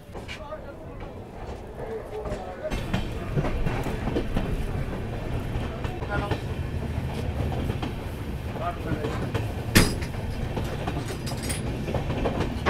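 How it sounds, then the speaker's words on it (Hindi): The Gorakhdham Express passenger train rolling out after a station halt on the New Delhi to Gorakhpur route, steady rumble with rhythmic wheel clatter heard from inside the carriage, one sharp clank, and a voice speaking over it. "5 मिनट का हॉल्ट लेने के बाद हमारे यहाँ से प्रस्थान हो चुका है।"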